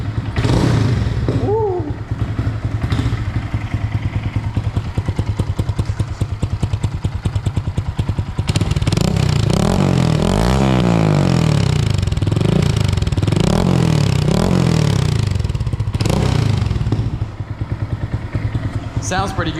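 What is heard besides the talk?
2022 Honda Grom motorcycle starting up with cheap Amazon exhaust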